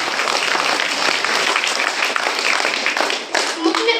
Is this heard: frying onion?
no